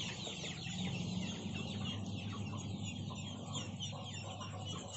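A flock of broiler chickens clucking steadily nearby, a continuous chorus of overlapping clucks and soft chatter with no pauses.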